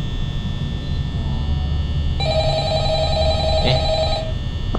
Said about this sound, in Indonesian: Telepon, angkat telepon gimana?